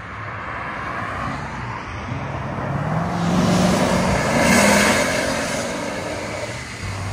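A 2015 Lexus RC F with a 5.0L V8 and Valvetronics Designs mufflers idles and revs with its exhaust valves closed. A muted, rumbling drone swells into a broad rev around the middle, then settles back.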